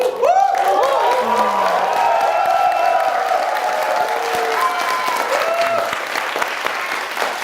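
A talk-show studio audience breaks into loud, sustained applause mixed with whoops and cheering, a dense wall of clapping that stays strong throughout and fades slightly near the end.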